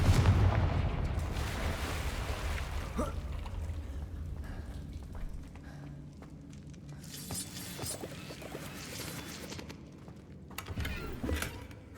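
Confringo, a fiery explosive spell in Hogwarts Legacy, goes off as loud booming bursts with crackling debris, strongest at the start, then a rumbling lull and a sharp blast again near the end.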